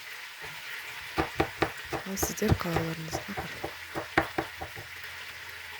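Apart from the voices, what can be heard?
meat frying with garlic for sorpa soup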